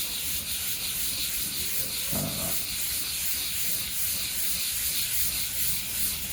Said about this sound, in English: I'm just sanding shellac.